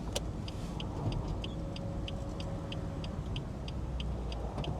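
A 2018 BMW M4 retractable hardtop folding while the car rolls slowly under 10 mph, a regular series of light mechanical clicks ticking over a steady low road and engine hum.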